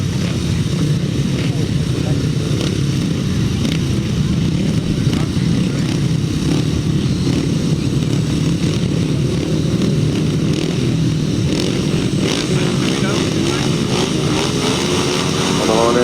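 Several grasstrack racing motorcycles roar away from the start in a sustained, loud, dense engine drone at a rural meeting, with a commentator's voice over the noise.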